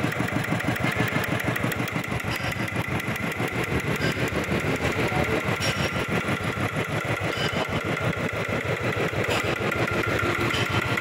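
A small Mitsubishi NM7 7 hp diesel engine runs at a fast, even 2400 rpm, a continuous rapid chugging that stays loud and steady throughout.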